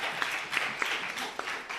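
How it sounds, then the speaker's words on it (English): Faint applause from a small group at an AI winter school session, brief and somewhat distant, with a few sharper individual claps standing out. "we here are going to give you a big clap"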